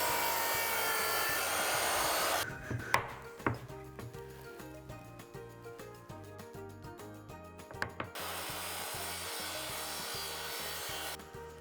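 A handsaw rasps steadily through wood in quick back-and-forth strokes while building a bowling board, pauses with a few knocks and taps in between, then resumes sawing.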